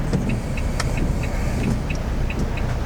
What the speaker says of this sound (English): Oh, this car was pulling out.